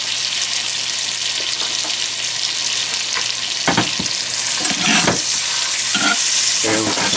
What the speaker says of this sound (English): we're just going to let them cook for about 2 minutes or so until they're golden brown